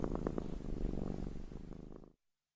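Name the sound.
cat purring softly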